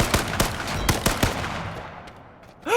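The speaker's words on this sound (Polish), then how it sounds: "on z łuku do mnie strzela. No wiem, słyszę te psiu" Several sharp whooshing bow shots in quick succession in the game H1Z1, followed by a short rising zip.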